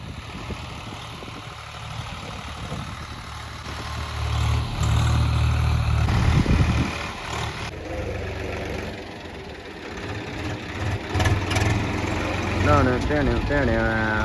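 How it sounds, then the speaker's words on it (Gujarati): A tractor's engine runs steadily while sowing a field, with the rumble swelling and easing as it works nearby, under people talking. "ટ્રેક્ટર વાવતું હતું"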